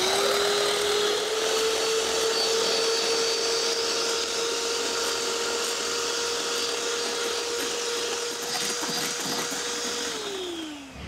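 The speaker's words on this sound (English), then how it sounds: "what we're gonna do is we're gonna beat the egg whites first" An electric mixer whips egg whites for a chocolate cake, a steady high motor whine droning close and unbroken for about ten seconds before winding down at the end.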